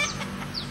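A chicken clucks briefly in a short, soft burst, with a couple of quick rising calls over faint background noise.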